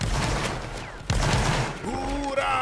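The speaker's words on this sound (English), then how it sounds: "Keep firing, guys." Massed musket volleys crack and rumble through a line-battle game, with sharp bursts near the start and around the midpoint over continuous battlefield noise, while a voice talks over the firing.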